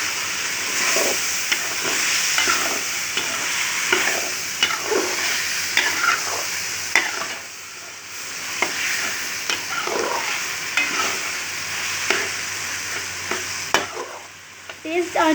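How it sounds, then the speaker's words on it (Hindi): White chickpeas frying in masala over high heat, giving a loud continuous sizzle and hiss with repeated rhythmic scraping of a spoon stirring through the pan, close by and without speech. "तेज़ आंच के ऊपर ऐसे 3 से 4 मिनट के लिए हम अच्छे तरीके से भूनेंगे।"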